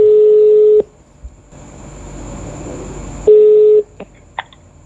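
A telephone call being placed: a steady dial tone, a hissy gap of line noise, then the tone returns and a few short dialing beeps follow, loud and close.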